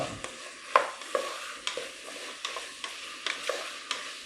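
Carrot, beetroot and potato being stirred in a pan for pav bhaji, with a soft steady sizzle under a series of distinct spoon scrapes and clacks at an irregular rhythm, close and alone.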